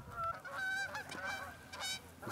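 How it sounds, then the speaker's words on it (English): Several geese honk loudly and repeatedly on the Winthrop University disc golf course, their nasal calls overlapping in a short, busy burst close by. "You scared the geese off."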